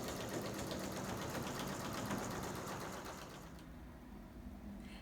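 A sewing machine runs in one continuous burst, stitching shut the hole in a candy corn Halloween pillow, a fast close mechanical whir that eases slightly toward the end.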